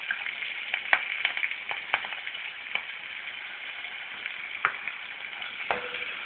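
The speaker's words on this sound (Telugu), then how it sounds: "పచ్చిమిర్చి వేగిపోయింది." Green chillies and curry leaves fry in a pan for mirchi chutney with a continuous soft sizzle and scattered small pops and crackles, close up and without talk.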